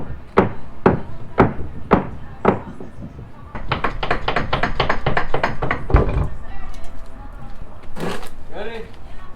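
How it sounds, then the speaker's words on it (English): Hammer blows on a hurricane-damaged boat's fiberglass rudder: several loud, evenly spaced taps, then a quicker run of sharp knocks, with talk audible around them. "Tap it with a hammer."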